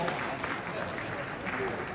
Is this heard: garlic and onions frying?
no